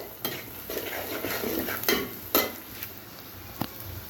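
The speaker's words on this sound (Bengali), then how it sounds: "তো মরিচ হলুদ ভালোভাবে ভেজে নিচ্ছি" Chili powder and turmeric frying in a home pan with dried shrimp, a close, soft crackle broken by several sharp scrapes and clinks of a spoon stirring against the metal, with no voices.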